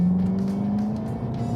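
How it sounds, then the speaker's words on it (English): A 2015 Seat Leon ST Cupra 280 estate in Cupra mode gives a steady, loud, hard-edged engine note, a continuous close drone held at one pitch throughout with no talk over it. "the engine note hardens, and with all that power under the bonnet, this thing flies"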